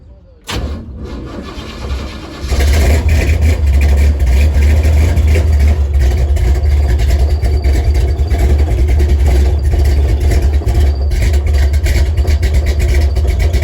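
1967 Chevrolet Camaro, an engine-starting project car, cranks briefly and then catches into a loud, steady, rumbling idle that runs close by for about eleven seconds without any talk.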